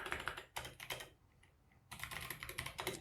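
Fingers type steadily on a computer keyboard, with rapid close clicking keystrokes in two bursts separated by a short pause.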